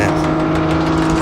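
Racing car in a racing video game, its engine and exhaust upgraded to near maximum, holds a steady loud droning engine note throughout, with a faint voice under it.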